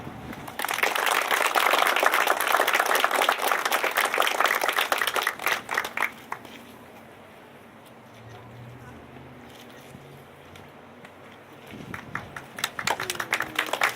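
Applause from the crowd at a DAV Chapter 16 ribbon cutting and grand opening, a dense, loud burst of clapping for several seconds that fades into quiet murmur before swelling again near the end.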